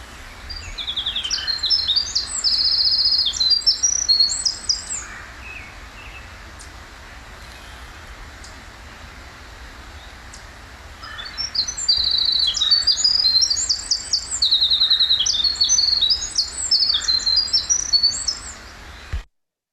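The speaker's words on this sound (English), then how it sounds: "I found this winter wren right by the parking area. It gave me really close views as it sang for a long time." A winter wren sings near a parking area in the Finger Lakes in spring, delivering two long, rapid, high tumbling trills and warbles, each running several seconds, close and clear over a low background hum.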